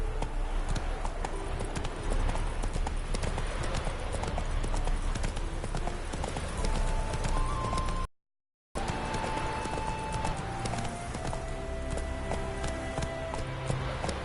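Roach, Geralt's horse in The Witcher 3, trots with a steady rhythmic clip-clop of hooves over continuous game ambience, with a brief silent gap midway.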